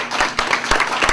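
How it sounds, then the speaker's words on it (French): Applause from a lecture audience welcoming the speaker for a course session, a dense steady patter of many hands clapping at close range, filling the short moment without voices. "Gardez vos applaudissements pour la fin"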